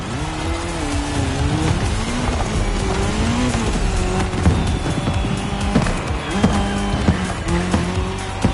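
A racing car drives hard in a video game, its engine note rising and falling through gear changes while tires squeal and skid, loud and close, with rough road texture underneath and no talk.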